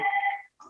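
Phone ringing nearby during an interview with a swing voter, a single loud electronic ring tone lasting under half a second, followed by a short fainter chirp, with no talk over it.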